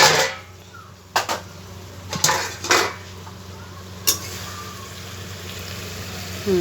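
A metal lid comes off a cooking pot of boiling potatoes, giving several sharp clanks and scrapes spread over a few seconds against a steady low hum.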